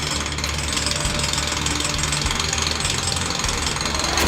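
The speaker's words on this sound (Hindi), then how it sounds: "ड्रिल मशीन लगाकर उखाड़ दिया शिवलिंग।" A drill machine being used to uproot a Shivling at a 300-year-old temple in Alwar, Rajasthan: a loud, steady mechanical rattle and grinding with a fast repetitive pulse, heard alone and without a break.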